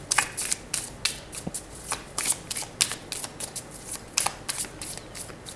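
Tarot cards are shuffled up close, a series of crisp riffling and slapping bursts in an uneven rhythm, loud and clear with no talking.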